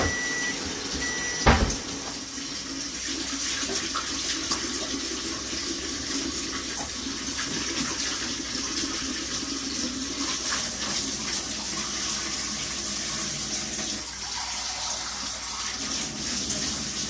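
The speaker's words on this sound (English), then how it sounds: "just washing up the dish now" Tap water runs steadily into a sink while a dish is washed up under it, a continuous close splashing flow with one brief knock near the start.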